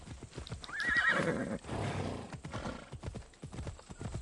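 Horse in the video game Assassin's Creed Odyssey neighs loudly in a rising whinny, with hooves clip-clopping steadily throughout, close and clear over game background sound.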